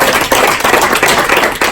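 An audience breaks into steady applause, with dense, close, continuous clapping from many hands at a farewell gathering.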